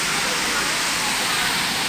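Huai Mae Khamin waterfall, tier 2 (Man Khamin), Kanchanaburi, deep in forest: a steady, dense roar of falling water fills the scene, continuous and broadband with no break.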